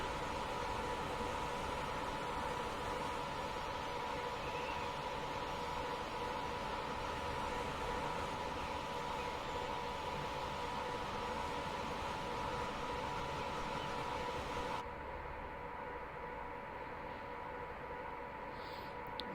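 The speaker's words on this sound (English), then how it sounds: "It is quite impressive that this loco was able to take that turn at this speed." Class 89 electric locomotive running in Train Simulator, a steady, continuous hum and rushing rail noise at constant level throughout, with a slight drop in brightness near the end and no talk.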